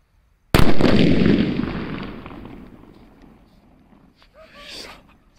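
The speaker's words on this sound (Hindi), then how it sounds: "क्या शानदार और जोरदार धमाका हुआ बिग साइज के जो कि नाजी बम था" A big Nazi bomb firecracker goes off in one sharp, loud blast after a moment of silence, and the roar fades away over a few seconds before a voice speaks faintly near the end.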